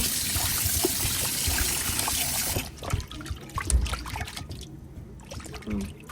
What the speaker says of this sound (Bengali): লবণ পানি দিয়ে ধুয়ে নিব।